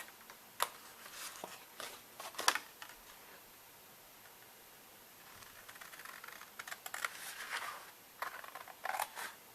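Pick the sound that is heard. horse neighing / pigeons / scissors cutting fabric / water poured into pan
scissors cutting fabric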